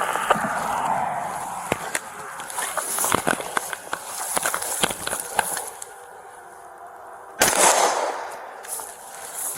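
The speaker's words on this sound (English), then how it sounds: "They're inside actively shooting." Suspects firing from inside an immobilized vehicle after a collision at a traffic stop ambush, a string of sharp irregular bangs at varying distances, followed by a loud burst of rustling noise near the end.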